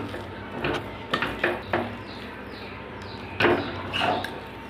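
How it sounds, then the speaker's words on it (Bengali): Boiled lentils are mashed in a pot, with a series of irregular wooden knocks and scraping clunks against the metal vessel, close by and fairly distinct, separated by short pauses. "এবার আমি ডালটা একটু এভাবে করে ঘুটে নেব।"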